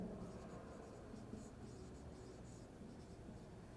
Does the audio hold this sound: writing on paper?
yes